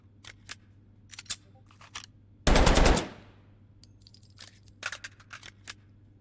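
A machine pistol fires in a competitive shooter video game: one short, loud, dense burst of rapid automatic shots, standing out amid scattered faint clicks and interface sounds.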